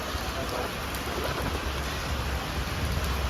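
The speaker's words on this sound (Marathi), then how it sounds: "पाऊसच बंद होत नाही" Heavy rain pours down steadily in Tuljapur, Dharashiv, a dense, loud hiss with deep rumbling underneath, continuous and with no voices.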